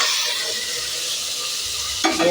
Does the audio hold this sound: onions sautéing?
yes